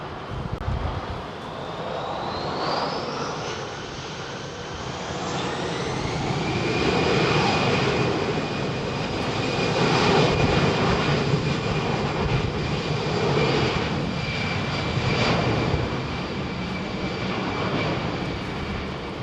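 A jet airliner powered by CFM56 engines at Heathrow during Storm Franklin roars steadily, its engine tone rising in pitch and swelling louder as it passes, with gusty wind noise throughout.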